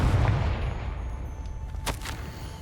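The Confringo blasting spell goes off in the Hogwarts Legacy video game as one sharp, punchy crack near the end of the clip, heard over a low rumbling game ambience.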